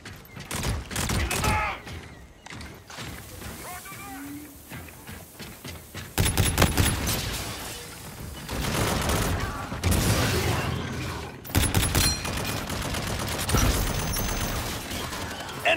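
Sustained automatic gunfire and bursts of shots fill a multiplayer shooter match, loud and dense with mechanical clatter, over game music and effects, with people talking over it.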